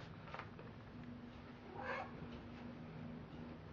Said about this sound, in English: Okay, I'm trying to do this video, but there's a cat.